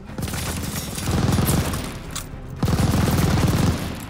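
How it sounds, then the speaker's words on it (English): Machine gun fire in the Call of Duty: Vanguard Operation Tonga mission on PS5, with loud sustained rapid bursts of gunfire in two long volleys separated by a short lull. "Suppress that MG."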